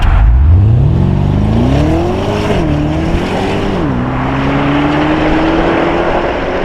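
A Porsche Panamera Turbo of the 970 generation revs hard and loud up through the gears, its engine note climbing steadily with brief dips at each shift, close to the microphone with no talk.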